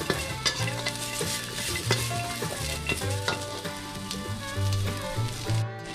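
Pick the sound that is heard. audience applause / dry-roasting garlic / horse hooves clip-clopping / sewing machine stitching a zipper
dry-roasting garlic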